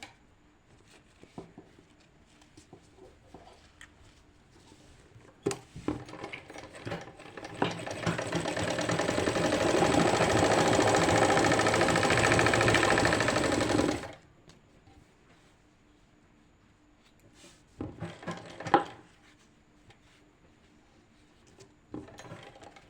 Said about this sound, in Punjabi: ਇਹਦੇ ਇੱਥੇ ਪਹਿਲਾਂ ਸਲਾਈ ਲਗਾਵਾਂਗੇ ਆਪਾਂ